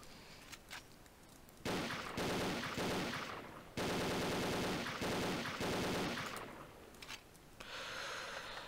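A Thompson submachine gun fires in Garry's Mod, loud sustained bursts of rapid automatic fire broken by brief pauses, with no talking.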